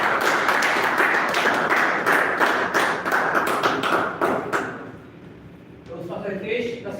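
Clapping from an audience at a Jaipur Toastmasters Club meeting welcomes Toastmaster Hitesh, dense and steady for about four and a half seconds before thinning out, with voices coming in near the end.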